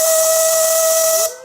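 A DJB resonator steam whistle on a Silver Lady live steam locomotive blows one steady, shrill, loud blast with heavy steam hiss, then cuts off abruptly near the end.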